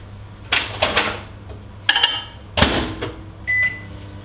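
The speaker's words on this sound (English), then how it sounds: "we might just zap this in the microwave" A microwave oven being used to melt butter for a strawberry and almond cake: several loud clattering thumps of the door and dish being handled, then a short steady beep near the end, close up with no talk.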